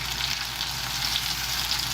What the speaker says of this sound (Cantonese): 咁上咗生粉咧，擺落去煎咯